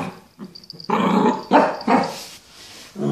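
A small, recently adopted puppy barks in a string of short yaps, some close and loud, with a couple of soft whimpery sounds mixed in and brief quiet gaps between the bursts.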